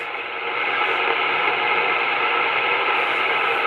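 A handheld radio hisses with a steady wash of broadband static that swells in and holds loud and unbroken, with no voices coming through.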